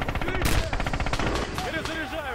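Machine gun bursts in Red Orchestra 2, rapid rhythmic gunfire with sharp cracks, loud and close, mixed with other battlefield shots and voices speaking over it.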